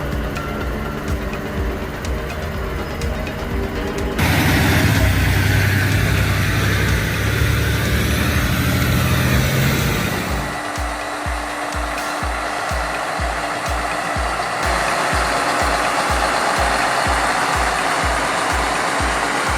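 Heavy haul trucks with engines of up to 600 horsepower, on a convoy moving a 561,274-pound steam turbine rotor. Loud, steady diesel rumble runs throughout, with a deeper roaring stretch early on and a rhythmic low thudding pulse toward the end.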